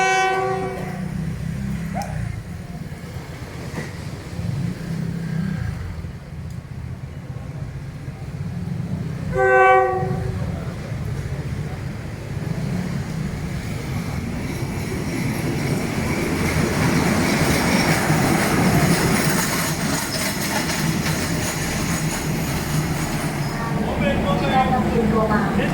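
A passenger train pulls in with a steady rumbling roll and clacking wheels, sounding its horn in short repeated blasts near the start and again mid-way, while people talk faintly in the background and a final horn burst closes the scene.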